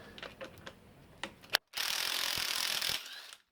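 A pneumatic impact gun takes out the crankshaft balancer bolt on a 302 Cleveland engine during a teardown. A few ratcheting clicks come first, then the tool gives one loud, continuous buzzing rattle for about a second and a half before stopping, up close.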